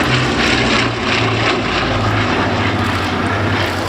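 A propeller aircraft makes its final pass at the RAF Cosford Air Show in 2018, its engine droning loudly and steadily with a throbbing propeller hum as it passes close overhead.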